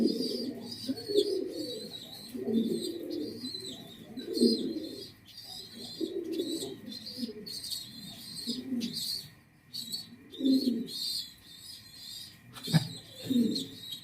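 Pigeons in a breeding coop coo in repeated low throaty phrases, several birds close by, with light chirps and rustling between the calls.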